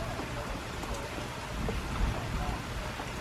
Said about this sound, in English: this is our weather, I think, for pretty much the entire day. On and off storms.